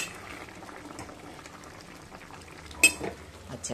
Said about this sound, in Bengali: এবার মটনটা অনেকক্ষণ ধরে কষাচ্ছি